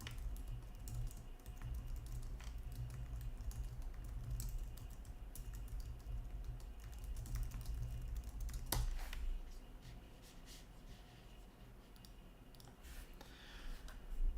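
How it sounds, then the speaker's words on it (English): Steady close clicking of a computer keyboard during a live day trading session, keys tapping in continuous bursts for over ten seconds, with a few sharper clacks and no speech. "Let me type in there with them."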